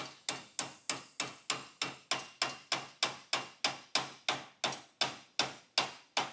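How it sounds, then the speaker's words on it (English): Bushing sleeve for a 2014-or-later Honda Rancher, Foreman or Rubicon ATV inner control arm tapped in with a hammer, about eighteen evenly spaced sharp metallic knocks in a steady rhythm, close and alone. "You want to gently tap that in there."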